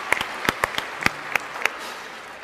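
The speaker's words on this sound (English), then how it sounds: "So I think we should all give him a round of applause." A small audience at a public physics debate gives scattered, sparse handclaps. The separate claps ring out clearly and fade within a couple of seconds.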